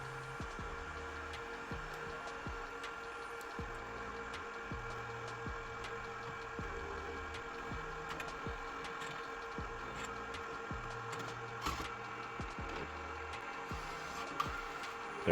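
A DTF printer runs its automatic pre-setup, a steady mechanical hum with repeated clicking and whirring motor cycles, faint and even throughout.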